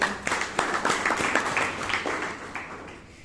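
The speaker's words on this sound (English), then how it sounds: "Another round of applause for him." Applause from an audience at a Toastmasters meeting in Bangalore, a moderate patter of hand claps after a speech, steady and fairly soft, with no voices over it.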